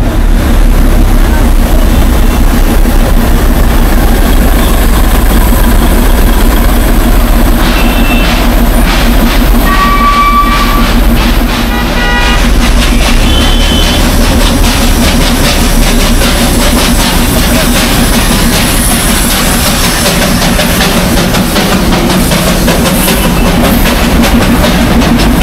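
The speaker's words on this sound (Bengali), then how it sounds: "আর যেটা এখন ঢুকলো সেটা কিন্তু স্টিম লোকোমোটিভ" A steam locomotive pulls into a station near Sukhiapokhri in the Darjeeling hills, with a loud, steady rumble and clatter throughout and brief high squeals or whistle tones partway through.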